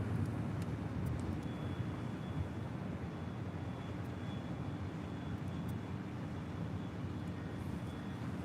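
A Delta Airlines Boeing 737-800 arriving at LAX produces a faint, steady roar heard from a distance, a continuous rumbling wash of engine noise with no speech.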